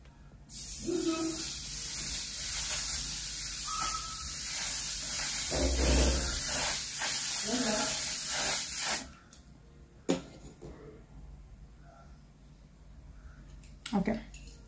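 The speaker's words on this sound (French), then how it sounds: "C'est le Until Dawn Mattifying Waterproof Setting Spray" Until Dawn mattifying waterproof makeup setting spray released in one long, close, continuous hiss of mist lasting several seconds, then stopping abruptly, followed by a few faint clicks and handling noises.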